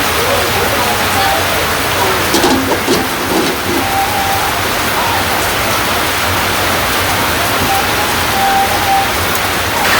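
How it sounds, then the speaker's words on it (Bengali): Heavy rain pours down in a steady, dense roar that holds constant from start to finish. "বাবা রে বৃষ্টি নামছে রে"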